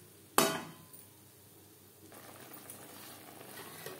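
Garlic, onion and tomato paste hitting a little hot oil bursts into a loud sizzle at once, then settles into a quieter steady frying crackle with occasional stirring clinks close by.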